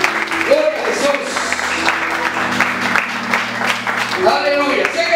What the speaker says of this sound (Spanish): Un aplauso a Cristo en esta hora.